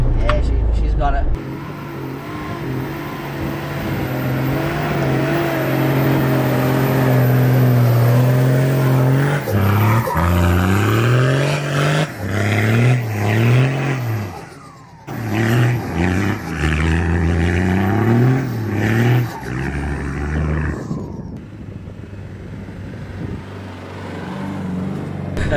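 A 4WD towing no camper trailer climbs a Simpson Desert sand dune, its engine revving and straining loud and close for a long stretch. The pitch rises and falls as it labours, with people talking over it.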